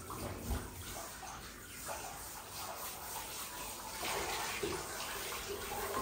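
Steady running water streams and splashes without a break while soap is rinsed off a husky during a bath, with a soft rise in the flow near the end.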